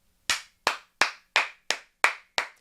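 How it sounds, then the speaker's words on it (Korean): Sharp, isolated claps ring out during a Wednesday church gathering, seven crisp strikes in a slow, evenly spaced beat, each one close and loud against near silence. "근데 이거는 정말 박수를 쳐야 돼요"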